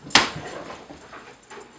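A bird dog whimpers and yips briefly after a sharp opening bark, with soft whining in the background.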